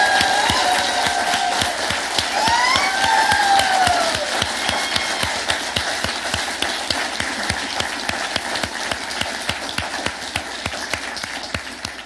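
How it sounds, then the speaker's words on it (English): A graduation ceremony audience breaks into sustained thunderous applause, dense steady clapping with early cheers and whoops that slowly eases over about twelve seconds. "let us use that same thunderous applause"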